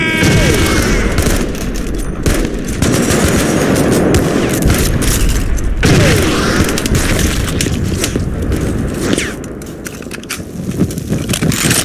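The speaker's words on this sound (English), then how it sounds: "opening fire! Keep firing!" Dense, loud gunfire and explosions in the war video game Mud And Blood, with overlapping rifle and machine-gun bursts and booms forming a continuous chaotic barrage.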